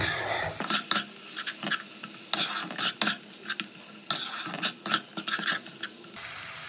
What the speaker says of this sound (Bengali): মাছের তেলটা দিয়ে ভাজবো পেঁয়াজের সাথে